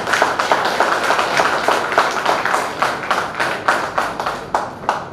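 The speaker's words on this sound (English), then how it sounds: "Let us appreciate by giving their large round of applause" Rhythmic clapping from a college reunion audience applauding dancers, loud and close, with the claps falling into a steady, almost synchronized beat.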